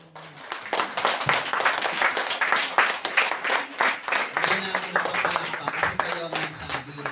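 A church congregation claps in steady, sustained applause that fills the room, while a voice speaks over the clapping.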